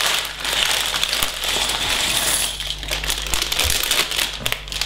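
Plastic bags from a Big Bang Theory building set crinkle and rustle continuously at close range, with irregular crackles and no speech.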